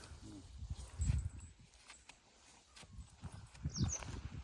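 A horse's hooves clip-clop on the ground at a farm while a young foal grazes on a long lead, the steps coming in irregular, moderately close bursts with a few quiet gaps between them.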